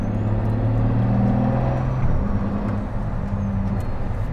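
A Pagani Huayra Roadster BC rolls along at low speed, its engine holding a steady, loud low drone with a gear change midway, no voices over it.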